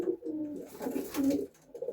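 Pigeons coo in low, throaty, repeated calls close by, with several overlapping phrases over about two seconds.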